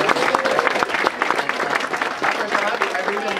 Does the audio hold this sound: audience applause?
yes